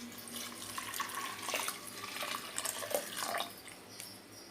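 Water pours into a cooking pot of lentils with coriander stems and turmeric, a close, bubbling splash that swells and eases over a few seconds, with no talking.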